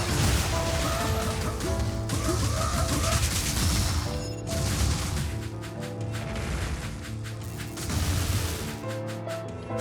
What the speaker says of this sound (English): he doesn't stick around in the explosions